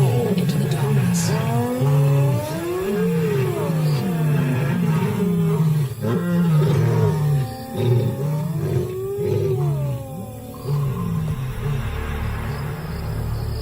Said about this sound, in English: Night after night, the hyenas and the cats roar into the darkness.